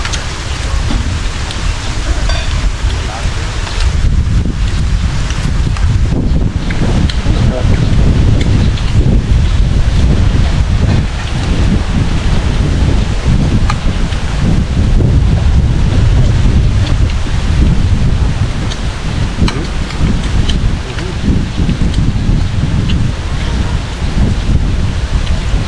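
Strong wind roars steadily and loudly against the microphone for the whole stretch, rumbling and buffeting with no pauses.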